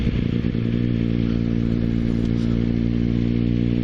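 A motorcycle pulls away briskly and accelerates straight to speed. The engine drone is loud, steady and close, with some wind and mechanical clatter and no talking.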